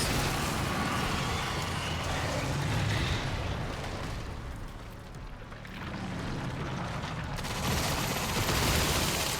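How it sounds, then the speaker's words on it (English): Dense, chaotic gunfire in the video game Resident Evil Requiem as a player shoots a creature's pustules, a continuous loud barrage of shots and bursts with rumbling effects and a brief dip midway. "I gotta shoot all its pustules"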